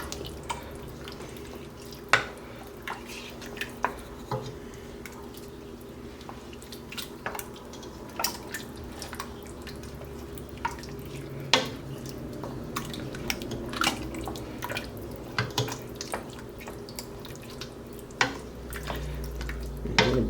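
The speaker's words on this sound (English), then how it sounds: "let's give that all a good stir" A spoon stirs a pot of food, giving scattered scrapes and light clinks over a soft, wet bubbling background, steady and close, with no talking.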